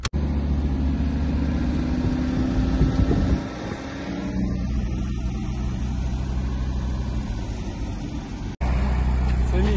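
Audi RS3 8V cars heard from outside as they drive by, a steady loud engine roar with a brief drop in the middle and a short cut near the end, with some wind buffeting on the microphone.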